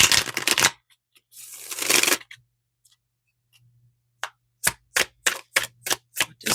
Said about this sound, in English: I'm just going to give my deck a quick shuffle